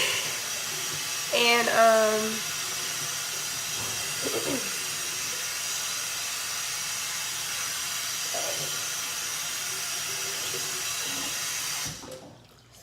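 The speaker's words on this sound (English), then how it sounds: "I'm going to rinse all the dishwashing soap out first." Running water pours steadily from a tap as dishwashing soap is rinsed out, a continuous close hiss with a few soft clinks, and a voice briefly speaks near the start.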